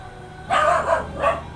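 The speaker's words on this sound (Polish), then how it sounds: "Aj, piesio się odzywa." A dog barks nearby in a few quick, sharp yips, three short bursts within about a second over a faint background hum.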